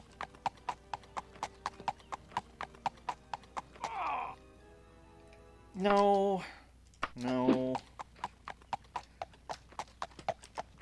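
Steady clip-clop of horse hooves trotting at an even pace in the video game Daggerfall Unity, broken by a few bursts of a person talking over it.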